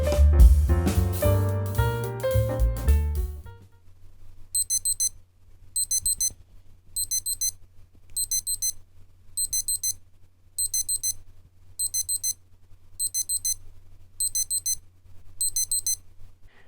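Casio WS-1600H digital watch alarm signalling the elapsed target time with ten identical bursts of rapid high-pitched beeping, roughly every 1.4 seconds, near and clear over a faint low hum, following a few seconds of loud music at the start.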